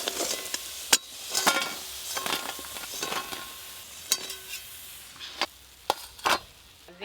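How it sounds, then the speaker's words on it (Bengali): Lentil fritters (bora) fry in hot oil in a home kitchen with a steady soft sizzle. Sharp scrapes and clinks of a spatula stirring against the pan break in at irregular moments. "বড়া ভাজা ভালো করে ভাজবি"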